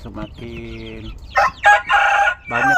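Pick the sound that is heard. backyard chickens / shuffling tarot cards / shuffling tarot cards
backyard chickens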